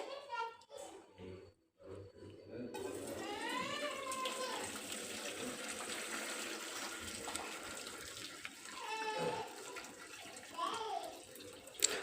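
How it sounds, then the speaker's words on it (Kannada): Water pours and trickles steadily through a kitchen strainer as cooked drumstick leaves are drained for a bassaru recipe, a continuous splashing flow lasting most of the stretch, with a voice and other talk faintly underneath. "ಇವಾಗ ಇದನ್ನು ಒಂದು ಸ್ಟ್ರೈನರ್ ಸಹಾಯದಿಂದ ನಾವು ಅದನ್ನು ಸ್ಟ್ರೈನ್ ಮಾಡ್ಕೊಂಬೇಡೋಣ"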